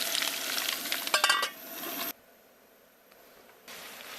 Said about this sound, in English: Doing a fine job frying potatoes for breakfast.